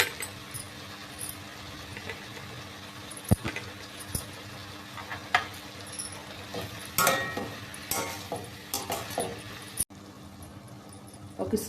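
Tomato pieces fry with spring onions in a pan for a curry, giving a steady sizzle. A spoon stirs and scrapes against the metal now and then, and clinks break through after a short pause near the end.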